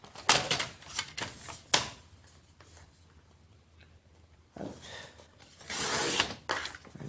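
Material being cut to 11.5 cm width for a handmade planner, close scraping and slicing strokes in a few irregular bursts with quieter gaps between them.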